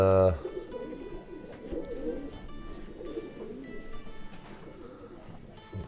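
Racing pigeons coo in a loft in England, soft repeated throaty cooing that runs continuously after a brief louder opening sound, with faint chatter in the background.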